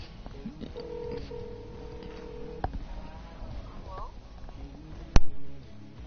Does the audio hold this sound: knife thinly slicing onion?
no